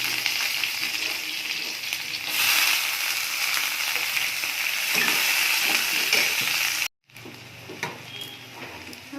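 Onions frying in a pan for a Bengali fish curry, a continuous crackling sizzle with occasional stirring clatter, briefly cutting out before resuming.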